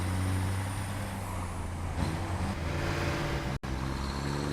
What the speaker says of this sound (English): I think this truck drives awesome. Yeah, this truck is sweet.